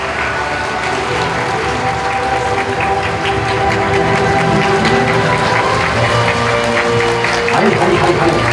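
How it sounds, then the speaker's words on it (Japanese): A crowd claps steadily at a live talk event while sustained musical tones play underneath, the applause holding at an even, fairly loud level throughout. "皆さん大きな拍手をお願いください"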